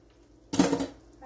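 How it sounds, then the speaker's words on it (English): A metal utensil scrapes across a cooking pan in one short, harsh metallic rasp at close range, with a quiet kitchen before and after. "I'm going to scratch my pan with this metal"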